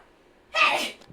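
A single sharp sneeze bursts out close to the mic about halfway through, loud and breathy, after near silence, with a faint trailing breath at the end.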